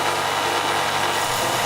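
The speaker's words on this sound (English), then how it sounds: "I used a belt sander to bring all of the surfaces closer to the line" A belt sander smooths clock parts with a loud, continuous rasping whir that holds steady throughout without pause.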